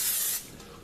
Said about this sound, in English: So I'm just using a little bit spray on lube.